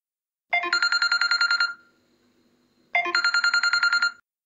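A telephone rings for a call to book a flight with a travel agency, two loud electronic trilling bursts about a second long, separated by a short silent pause.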